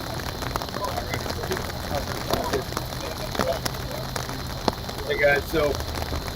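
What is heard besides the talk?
rain falling outdoors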